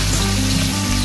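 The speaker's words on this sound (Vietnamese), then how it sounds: "Cứ làm một mẻ, cứ phải chiên một mẻ to này thì chiên nó mới nhanh được mọi người." Pieces of muscovy duck meat fry in a big batch in a pan, giving a loud, steady, close sizzle with no break and no talking.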